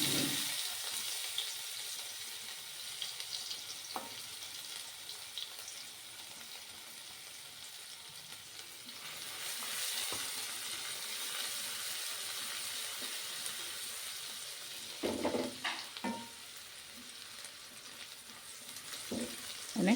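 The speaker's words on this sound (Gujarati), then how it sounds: "તેલ આપણું ગરમ થઈ ગયું છે, તો હવે વઘાર કરીશું." Onion frying in hot oil for a tempering of mustard seeds, cumin and asafoetida for tomato upma, a steady close sizzle throughout with a few sharper crackles and stirring knocks near the end.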